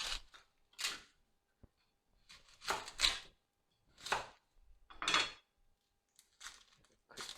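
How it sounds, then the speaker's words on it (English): A knife cuts onions on a cutting board, several separate crisp chopping strokes spaced unevenly, close and clear in an otherwise quiet kitchen. "First, I'm going to cut 2 onions."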